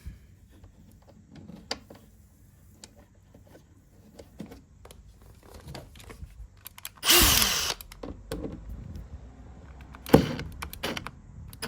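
Power screwdriver driving a screw on the water pump of a Siemens tumble dryer, a short whirring burst amid quiet handling clicks and knocks, with a sharp knock shortly after.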